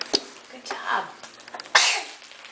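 A child or adult sneezes sharply once during a family gift-opening at home, a brief burst standing out amid soft background chatter and paper rustling.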